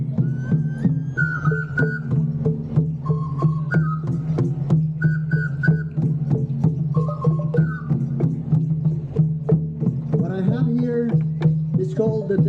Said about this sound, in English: It's called the dead whistle, or the dead cry.